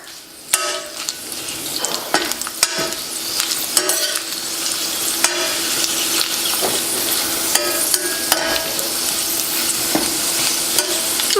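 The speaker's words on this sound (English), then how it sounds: "saute them. So I'm gonna go ahead and add everything in there" Peppers for mole de espinazo sauté in a pan with a constant close sizzle, broken by frequent sharp utensil clicks and scrapes as they are stirred, with no voices.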